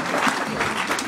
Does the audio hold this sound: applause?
yes